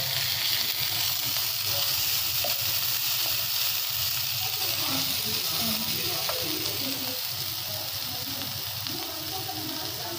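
Onions sautéing in a pan over a medium flame, giving a steady, soft sizzle that holds evenly throughout, with faint stirring scrapes.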